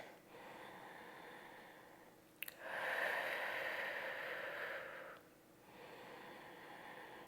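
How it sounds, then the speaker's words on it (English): A single deep breath taken during a Pilates leg stretch, a soft drawn-out airy exhale of a couple of seconds, close and quiet against faint background hiss. "And 2 nice deep breaths here."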